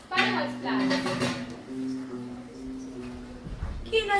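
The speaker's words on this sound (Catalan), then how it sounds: "Au, nois, pareu els plats." Plates and dishes being laid out for a meal make light clinks of crockery and cutlery, heard under and between people talking and a sustained musical tone.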